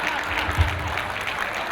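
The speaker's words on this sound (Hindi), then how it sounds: "ये तालियां मैंने सिर्फ अपने लिए नहीं बजवाई हैं" An audience at a stand-up comedy set during a Samsung corporate annual function applauds, a brief dense burst of clapping with some voice mixed in.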